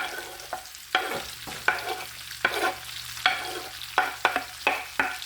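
Onions, celery, small onions and garlic stirred in a big iron pan, a steady sizzle broken by repeated scraping strokes of the spoon at a quick, uneven rhythm, close and clear with no talking.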